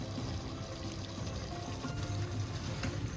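Roughly a glass and a quarter of water is poured into a pot of mutton cooking for biryani, a steady, continuous splashing pour that runs unbroken and fairly loud, with no talking.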